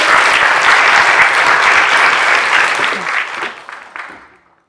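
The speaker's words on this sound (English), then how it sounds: "let's give her some round of applause" An indoor audience claps loudly and steadily for about three seconds before the applause thins out and fades to silence.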